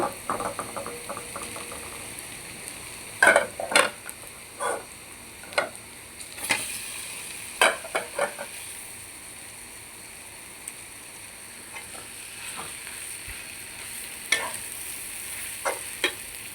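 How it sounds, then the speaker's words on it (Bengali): Minced meat frying in oil with softened onion, salt and green chili for a meat pitha filling, a soft steady sizzle broken by repeated sharp scrapes and taps of a spatula stirring the pan. "মাংসটা কিছুক্ষণ ভাজা ভাজা করে নিচ্ছি"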